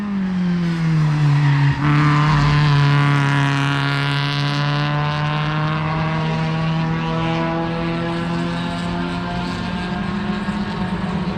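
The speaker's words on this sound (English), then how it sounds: "Now for the loudest Ignis that I've ever heard." Loud modified Suzuki Ignis on a race track, its engine holding a strong steady tone as it drives past, close and loud, gradually shifting pitch as it moves away.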